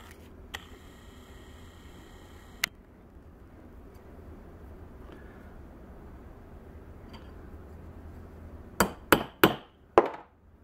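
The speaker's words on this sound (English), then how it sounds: "you're going to get a punch, and you're going to center punch a couple holes" A hammer drives a center punch into metal while a transfer magnet is being made: a couple of isolated sharp metallic strikes, then a burst of four quick, loud blows near the end, close by with no talk.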